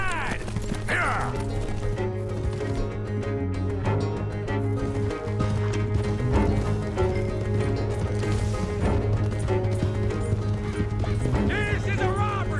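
Horses in Red Dead Redemption 2 gallop beside a rolling coach, a continuous rhythmic clatter of hooves and rattling mechanisms under a tonal game score, with brief voices shouting.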